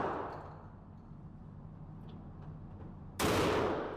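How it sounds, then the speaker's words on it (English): One loud shotgun shot at an outdoor gun range, a sudden broadband blast ending a stretch of steady background noise, close to the recorder. "He shot the thing."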